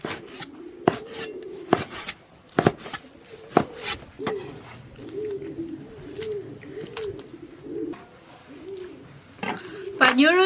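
Kitchen knife chopping soaked raw beef on a board, sharp separate whacks arriving irregularly, some in quick pairs, under a fair amount of background sound with birds cooing nearby.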